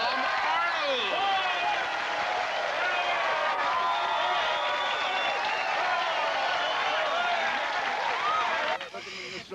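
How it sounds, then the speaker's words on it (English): A studio audience applauds and cheers for the star of a sitcom, a sustained loud wash of clapping and whoops that cuts off abruptly near the end. "I want you to give a round of applause to the star of our show, Mr. Tom Arnold."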